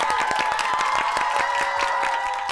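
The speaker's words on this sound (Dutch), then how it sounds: "Nog een groot applaus voor Moot." An audience claps for a finalist at a Dutch-language TikTok trophy competition final, a burst of scattered, irregular claps over a steady musical tone.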